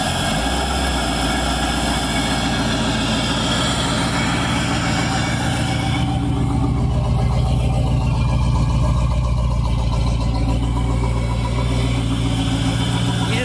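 Boat engine started and running on a fake lake flusher with water connected, a loud continuous rumbling idle close by, its tone shifting to a rougher, steadier drone partway through.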